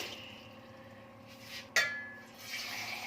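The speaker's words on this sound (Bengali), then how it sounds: "এবার এর মধ্যে জল দিয়ে দিচ্ছি" Water poured into a pressure cooker over amla (Indian gooseberries), a short quiet splash and trickle with a sharp metallic knock partway through.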